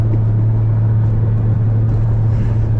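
Big-turbo BMW 335i with a 3.5-inch exhaust pulls hard from the driver's seat, a steady loud low engine drone and rumble filling the cabin without letup.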